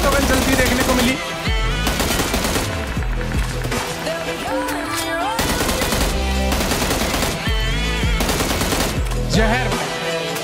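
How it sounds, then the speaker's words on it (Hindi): Automatic gun firing in PUBG Mobile: dense, sustained rapid fire that runs nearly unbroken and loud, layered with other busy in-game sounds. "पहली बार ऑटो गन चलती देखने को मिली।"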